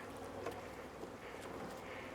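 Honey bees buzzing steadily around a queen cage with a candy plug, a soft continuous hum close by with no talk.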